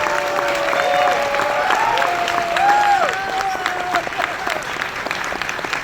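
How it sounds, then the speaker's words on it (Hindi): An audience at a stage event breaks into loud, sustained applause, a dense, continuous wash of many clapping hands with some cheering and a voice rising over it. "जोरदार तालियां"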